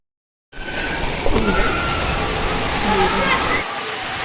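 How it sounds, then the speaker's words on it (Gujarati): Heavy rain pours down steadily outdoors as a broad, loud wash of water noise that starts abruptly and continues without a break, with a few faint voices mixed in. "વાહ ભાઈ વાહ, ધોધમાર વરસાદ આવે છે હો, મજા પડી ગઈ"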